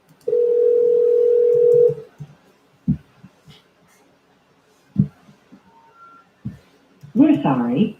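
A landline telephone's steady dial tone holds for almost two seconds. It gives way to a few dull clicks and two short, thin electronic tones, and then a voice begins at the end.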